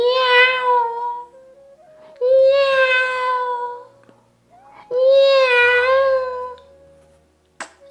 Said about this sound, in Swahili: Kurejea tu ndani, nasikia nyau.